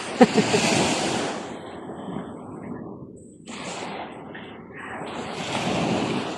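Sea waves washing onto a seashore, a rolling broadband surf that swells and eases with wind buffeting the microphone, and no talk over it.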